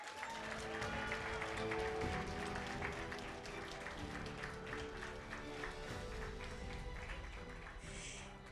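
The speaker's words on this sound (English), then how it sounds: "May we continue clapping for Professor until he makes it to the podium, please?" Audience clapping for an award winner at a university innovation competition ceremony, sustained and dense throughout with music or voices mixed underneath.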